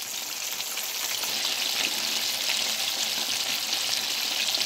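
Pieces of chicken frying in oil over medium heat, a dense steady sizzle and crackle heard close and alone throughout.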